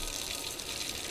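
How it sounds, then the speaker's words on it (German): A water tap runs in Untitled Goose Game, a steady, soft, hissing gush of flowing water that lasts the whole short moment, with no talk. "drehe das Wasser auf"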